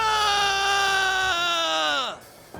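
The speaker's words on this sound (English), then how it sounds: "did you hear that scream just now?" A drawn-out, high wailing scream inside a video game, strong and harmonic, holding steady before sliding downward and cutting off, heard alone with no talk.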